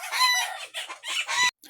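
A chicken clucks close by in a short series of quick, bright calls that stop abruptly near the end.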